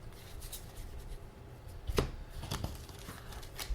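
A deck of cultist cards for the Rise of Cthulhu board game is shuffled, giving soft papery riffles and rustles that peak in a brief louder burst near the middle, quiet and close with no talking.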